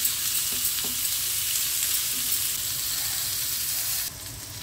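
Pieces of bitter gourd fry steadily in a pan over medium-high flame, a loud, constant sizzle with a few soft stirring knocks, alone and close, briefly dropping lower near the end.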